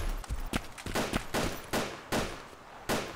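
Rapid bursts of gunfire ring out in the video game Arma 2 DayZ, a string of sharp cracks arriving every half second or so over several seconds, loud and with no talk over them.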